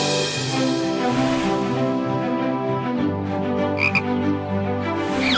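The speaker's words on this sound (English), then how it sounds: "Look, kids, a frog." A frog croaks steadily and loudly in a pond setting, with continuous layered calls over about five seconds and no talking.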